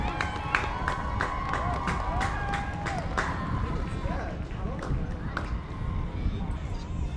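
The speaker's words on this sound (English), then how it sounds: "another round of applause for the Husky Marching" A crowd in the stands at a high school football game applauds and cheers for a high school marching band: a continuous wash of claps and shouts, with whistle-like tones and murmuring voices mixed in.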